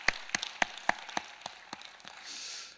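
A handful of distinct hand claps ring out one by one at a steady pace in a Korean church congregation, fairly quiet, before fading into a soft wash of room noise.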